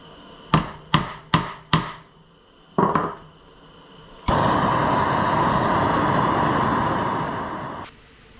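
Four quick metallic hammer blows strike a forged copper cross, followed by two more after a pause, then a sustained broadband grinding or rushing noise takes over for several seconds before cutting off abruptly.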